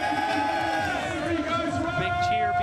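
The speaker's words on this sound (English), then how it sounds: "Big cheer before they head on out." A large crowd cheers and shouts before a race heat at the Dubai Games, steady and loud throughout, with tonal music or horn layered over it.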